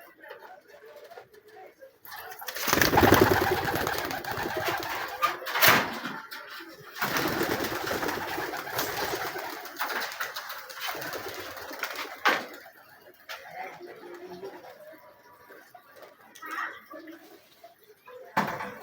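Pigeons cooing softly amid bursts of wing flapping and rustling, with a person talking at times.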